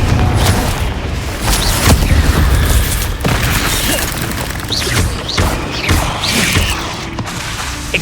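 Repeated Confringo blasting-spell explosions in Hogwarts Legacy, a string of loud booms and crashing impacts spread across several seconds amid ongoing combat clatter.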